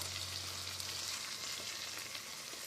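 Chili pasta ingredients with canned chili beans being stirred together in a single pot, a steady soft sizzle and bubbling hiss running continuously and evenly without any talking.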